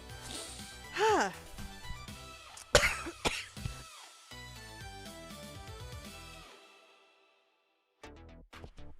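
Harsh, sputtering coughing fits from an inhaled cough drop, in close succession, with gasping breaths and throat clearing between bursts, fading to silence before a few final short coughs.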